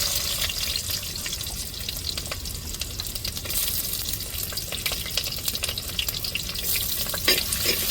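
Chopped shallots sizzling in hot oil for a tempering: a steady, dense frying hiss that runs the whole time with occasional crackles and pops, close and fairly loud, no voices.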